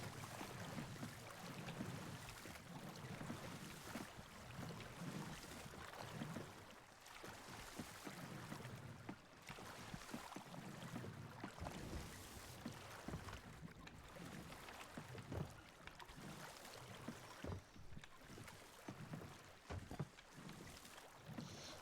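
Oars splash and water sloshes steadily around a small rowboat in a video game, with a constant wash of wind and water noise throughout.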